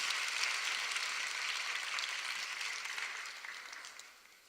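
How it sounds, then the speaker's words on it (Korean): A church congregation applauds to welcome a deaconess coming up to sing a hymn, soft dense clapping heard from a distance that fades toward the end. "박수로 한번 모셔봅시다"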